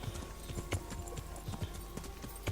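Horse hooves clip-clop in a steady, even trot across the ground in the medieval video game Kingdom Come: Deliverance, close and continuous over a low ambient background, with no talking.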